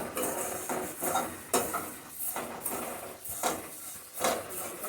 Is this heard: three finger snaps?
no